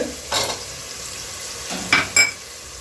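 Onions, garlic and cooked tomatoes being stirred in a pan, with a few distinct scraping strokes spaced apart over a low background sizzle, close and moderately loud.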